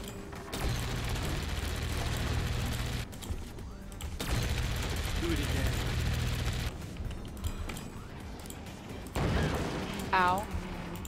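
Video game gunfire comes as sustained bursts of dense shooting with explosive rumbles, broken by brief gaps, loud and continuous, and a high whistling sound near the end.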